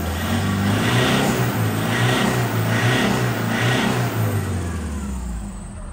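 A 2014 Toyota Hilux Vigo Champ 2.5 pickup revs hard and accelerates, its engine drone loud and steady for several seconds with rising pulses, fading slightly at the end.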